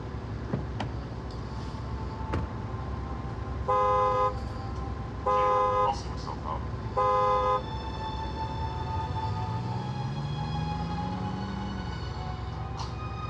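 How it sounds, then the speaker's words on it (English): A patrol car horn at a police traffic stop sounds three short, evenly spaced blasts over a steady idling engine rumble, close and loud. "I'm gonna honk my horn 3 times and you'll be able to leave"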